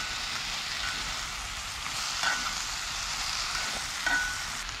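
Mushrooms and peppers fry in a camping pan outdoors in a pine forest, a steady close sizzle with faint stirring and occasional small pops, no voices.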